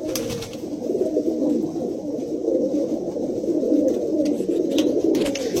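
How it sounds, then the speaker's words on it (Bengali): Andhra pigeons coo steadily in a dense, overlapping chorus, a continuous low throaty murmur from many birds close by with no one talking. "দেখে নিন পায়রাগুলোকে।"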